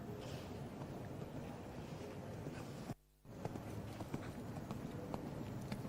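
A pony moves through the canter of an eventing dressage test at the FEI European Championships for Ponies, with soft rhythmic hoof thuds on the arena surface under steady wind and crowd ambience.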